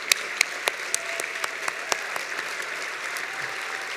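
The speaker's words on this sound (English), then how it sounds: "John and Julie Pearson, can you please stand so we can all give you the round of applause that you deserve?" Gala audience applauding honorees who stand, a sustained ripple of clapping with distinct individual claps popping out near the front.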